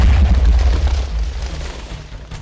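A bat bomb blows up in Minecraft with a loud, close boom whose heavy low rumble decays over a couple of seconds, followed by a few small crackling pops.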